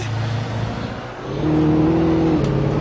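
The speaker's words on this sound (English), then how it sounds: "This car sounds like it's had better days." A car engine in the video game Alan Wake hums steadily on a slippery road and then rises in pitch with a droning, slightly rough rev, close and loud without any talking.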